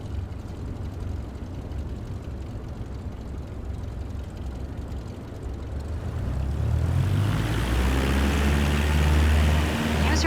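A light propeller aircraft engine in MSFS 2024 spools up to full takeoff power, the steady hum swelling into a loud, rising drone with harmonic tones over the final seconds.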